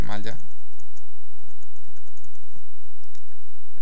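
Password being typed on an old computer keyboard, a run of quick, light key clicks with an uneven rhythm, heard close over steady background hum, with a brief voice sound at the very start.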